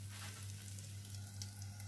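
Oil and rava batter sizzling on a hot tawa for a semolina pizza, a soft steady frying hiss with a constant low hum underneath, faint and unbroken.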